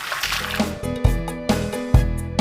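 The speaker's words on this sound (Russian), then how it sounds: "Заливаем кипятком." Boiling water poured over tomatoes in a kitchen pot while preparing ajapsandali, heard as sloshing liquid in short bursts with clinks and splashes.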